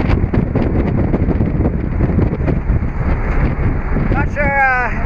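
Strong wind on a ferry deck buffeting the microphone in loud, continuous rumbling gusts, with a brief wavering tone near the end.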